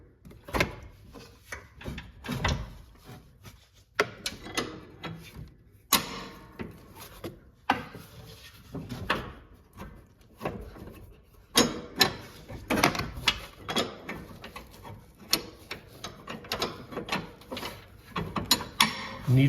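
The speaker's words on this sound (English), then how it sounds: "we'll move the deck around to where the holes line up" A John Deere X380 mower deck being shifted and wiggled into position during installation, giving irregular metallic clanks, rattles and scrapes in a rough stop-start rhythm, close and moderately loud, with no talking.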